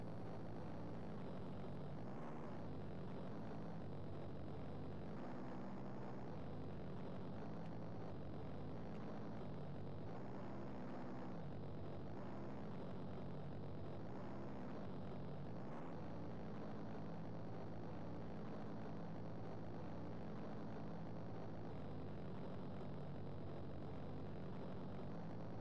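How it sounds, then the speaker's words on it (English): Aircraft engines drone steadily through the Amiga racing game Iron Trackers, a dense low roar of planes launching airstrikes with occasional swells and thuds layered over continuous game music and engine noise, no talk. "There's planes launching airstrikes at us!"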